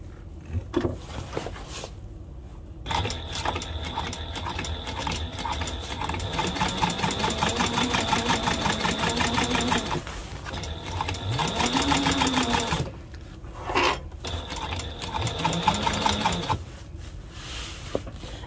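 A sewing machine runs in several bursts of rapid, even stitching, its motor whirring up and down in pitch, with short pauses between runs.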